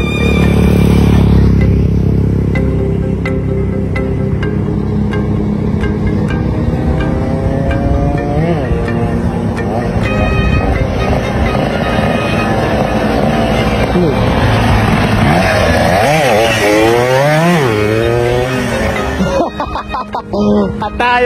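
A Yamaha DT125 superstock two-stroke motorcycle engine, freshly tuned and now strong, revs hard up close, its loud droning exhaust rising and falling through repeated throttle blips with no pauses.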